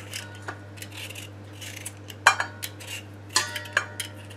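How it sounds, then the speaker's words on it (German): Potatoes being peeled in a home kitchen, with soft intermittent scraping and clinking of a peeler or knife, a few sharper clicks standing out over a steady low hum, no talk. "Zuerst werden die Kartoffeln geschält."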